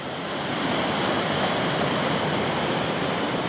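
Evercreech Rivulet Falls, a tiered waterfall in Tasmania, pours in a continuous dense roar, close and loud, with no voices.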